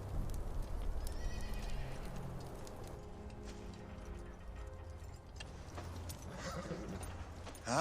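Several horses neigh and whinny while hooves clip-clop steadily nearby, set in a medieval Scottish outdoor scene; the sounds continue throughout with a louder burst at the end.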